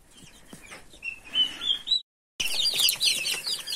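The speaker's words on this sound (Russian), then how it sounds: "А здесь у нас с доброй нянечкой сидят маленькие еще цыплята" Small young chicks peep in a brooder under a brooding hen, with high, thin chirps near the microphone that break off briefly and then return as a busier chorus of peeping.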